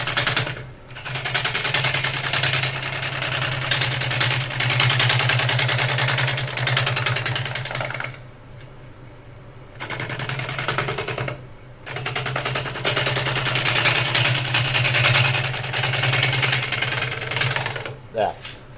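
A wood lathe spins a piece of wood while a turning gouge takes a fine cut around the top, giving a loud, sustained rattling chatter that breaks off in two short pauses.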